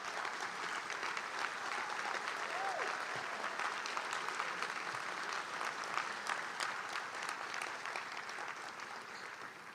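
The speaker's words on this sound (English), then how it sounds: "everybody join me in a round of applause for the past award recipients present today" An indoor audience at a community foundation awards event gives a sustained round of applause for past award recipients, a dense, even patter of many hands clapping throughout.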